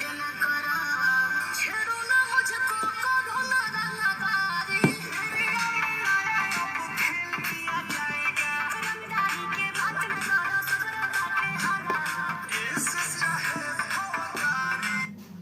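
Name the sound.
song playing from Infinix Note 30 5G phone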